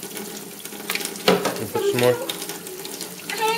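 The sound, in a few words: water running from tap while rinsing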